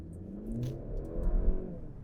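A 2022 Mercedes-Benz C300 sedan accelerating, a quiet, smooth engine rising briefly in pitch over about two seconds, heard from inside or close by with no voices.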